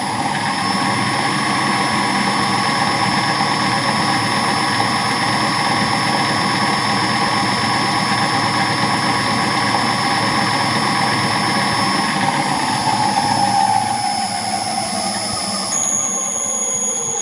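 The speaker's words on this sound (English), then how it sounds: "Fan comes to full speed." An industrial fan spun up to full speed for one- and two-plane balancing, a steady loud whirring roar with a constant tonal whine that holds throughout and shifts slightly near the end.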